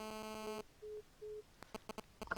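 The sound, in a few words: phone-in call dropping on the line, busy tone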